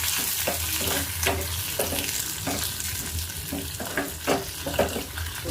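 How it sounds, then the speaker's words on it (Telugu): Dried red chillies, onions and curry leaves sizzle in hot oil for a tempering, a steady crackling fry broken by repeated scraping strokes of a ladle stirring the pan. "ఇప్పుడైతే ఎండుమిర్చి వేసుకున్నామండి. ఉల్లిపాయలు కొంచెం వేసుకొని, అలాగే కొంచెం కరివేపాకు"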